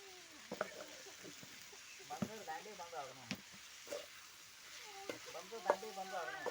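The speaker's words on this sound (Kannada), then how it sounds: "ಚಂದಾಗ ಫ್ರೈ ಆಗ್ತದ್ರಿ ಉಳ್ಳಾಗಡ್ಡಿ ರೀ" Onions fry in a pan with a low, steady sizzle and occasional stirring scrapes, faint and close, while a voice talks over much of it.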